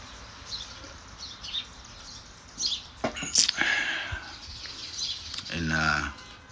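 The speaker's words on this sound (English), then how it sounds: "and just listening to the birds" Birds chirping and calling outdoors on a morning, faint and scattered against open-air background noise, with someone speaking softly over them.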